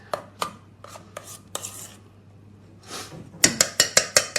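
Chocolate mixture being stirred in a bowl, with a run of sharp utensil clicks and scrapes against the bowl, then a rapid burst of evenly spaced knocks near the end, close and fairly loud.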